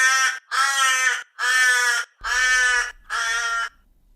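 A Torresian crow gives five loud, harsh caws in an even rhythm, each drawn-out call separated by short pauses, with the final one slightly softer and a faint low hum entering near the end.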